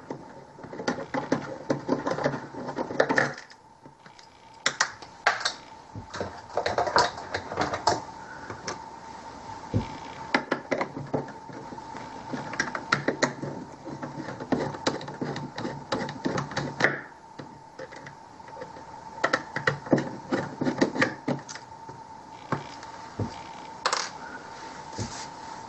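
Laptop hard drive being removed from its carrier, a run of small metallic clicks, taps and rattles, close and intermittent, with short quiet gaps between bursts of handling.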